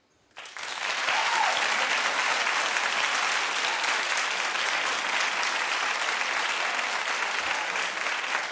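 A studio audience at a daytime talk show breaks into sustained, loud clapping that starts abruptly and holds steady throughout.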